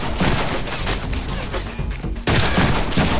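Rapid bursts of gunfire from the Deadpool video game, dense and continuous, dipping briefly then resuming loudly near the end.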